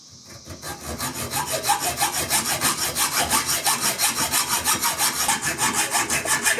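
A handsaw with a dull blade rasps through wood in quick, even back-and-forth strokes. The rough, scratchy cutting is close and loud, with no voices.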